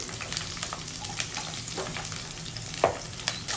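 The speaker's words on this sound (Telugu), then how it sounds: "ఆనియన్ గ్రీన్ చిల్లీ కొంచెం లైట్గా ఫ్రై చేసుకోవాలండి ఆయిల్లో" Onion and green chillies fry lightly in oil for gongura pachadi, a soft continuous sizzle with frequent small stirring scrapes and clicks close by.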